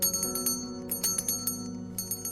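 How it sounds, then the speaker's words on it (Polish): A small baby rattle with a bell jingles in quick irregular shakes, bright metallic tinkling bursts repeating close by with no talking. "Tak, to grzechotka."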